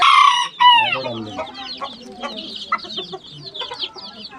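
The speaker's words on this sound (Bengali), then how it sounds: "দেখতে পাচ্ছেন এখানে এই শর্ট সেরামা মোরগ এবং মুরগি খুবই ছোট সাইজের" Small Serama chickens cluck and cackle close by, with a loud Serama rooster crow at the start followed by a run of busy, overlapping clucks.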